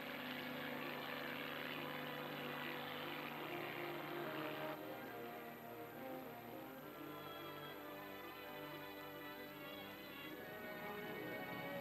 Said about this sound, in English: Helicopters head toward the Zero Island.